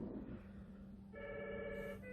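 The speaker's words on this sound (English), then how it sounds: "Hold on, I have to get the phone." A telephone in a city records office starts ringing about halfway through, a quiet electronic trill over low room noise, with no one speaking.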